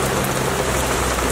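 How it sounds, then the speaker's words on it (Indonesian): Fairly heavy rain pours around Sulanjana, making a dense, steady hiss of drops striking surfaces close by, loud and unbroken throughout. "Sulanjana dan sekitarnya hujan lumayan rada badag."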